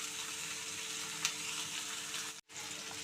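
Ivy gourd fries in a pan on a medium flame with a soft, constant sizzle, a faint low hum beneath, one small tick midway and a brief dropout just before the end.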